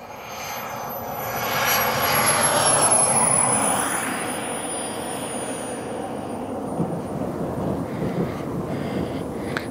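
A radio-controlled jet aircraft comes in to land with the throttle off, its turbine whine swelling then fading to a softer rush mixed with wind noise.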